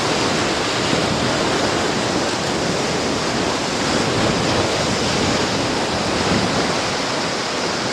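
Ocean waves break on the shore in a constant, loud, close rush of surf that barely varies and has no voices.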